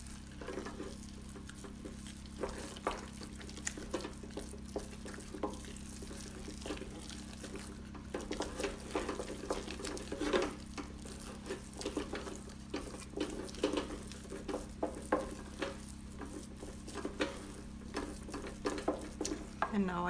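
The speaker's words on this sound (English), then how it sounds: "And now I will add first 1 egg, and mix it in here." An egg is mixed into hot elderberry soup, with rapid, continuous clicking and tapping of a utensil working through the liquid over a low steady hum for a long stretch, fairly quiet and close.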